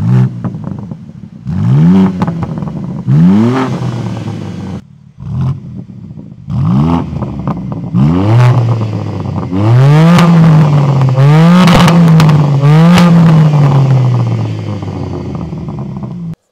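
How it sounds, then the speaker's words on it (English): A tuned 590 hp BMW M3 Touring with an Akrapovic exhaust accelerates hard through repeated rising revs and gear changes, loud and close, with crackling exhaust bursts between pulls and no talking. "Oh, listen to that Akrapovic exhaust."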